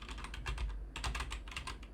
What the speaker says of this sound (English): Here's typing.